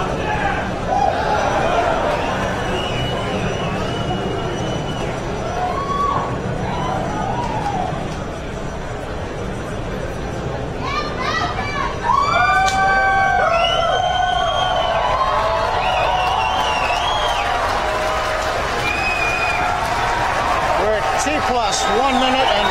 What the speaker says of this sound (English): a lot of cheering here in Hawthorne